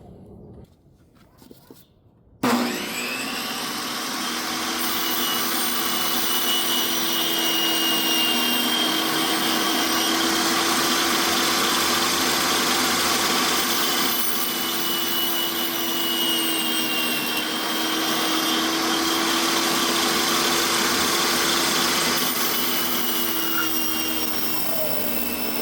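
Two-inch foam for model railway layout risers is cut into strips with a power tool that starts abruptly after a short quiet moment, then runs as a loud, steady whine and roar for the rest of the clip.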